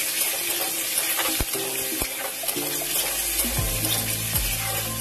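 Chopped vegetables sizzle in a wok for homemade pasta, a hissing fry with rushing, water-like noise, while sharp clinks and scrapes of stirring and a rising low hum build toward the end.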